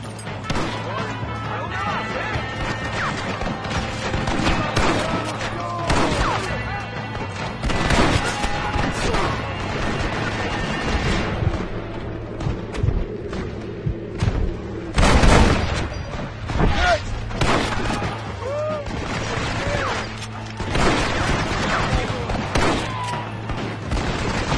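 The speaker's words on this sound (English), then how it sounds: "machine gun, John!" Heavy gunfire rattles through a battle in the video game Red Dead Redemption: repeated loud bursts of machine gun fire and crashing impacts over a droning background, with shouting voices mixed in throughout.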